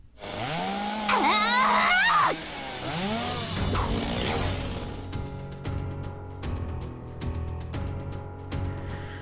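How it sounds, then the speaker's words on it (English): A chainsaw swung by a maid in a visual novel video game revs with loud rising and falling whines, then a run of sharp, rhythmic hits follows as the engine keeps droning. "The maid swung her chainsaw with all her might."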